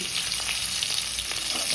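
Potatoes fry in hot oil for a vegetarian biryani without onion or garlic, a dense, even hiss and crackle heard up close and continuous with no voices.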